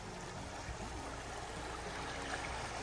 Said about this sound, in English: that's a river Doon.